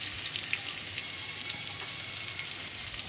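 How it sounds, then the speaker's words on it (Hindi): Cumin and carom seeds sizzle in hot oil, a steady, fairly soft crackling hiss that runs without a break and carries no voices. "ऑयल गरम करके इसमें हम ज़ीरा और अजवाइन डालेंगे।"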